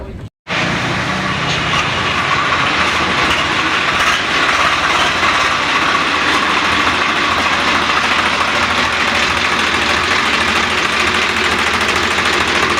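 A Swraj 744 FE tractor engine runs steadily close by with a loud, continuous diesel rumble and knocking throb after a brief start, holding without a break for the rest of the clip.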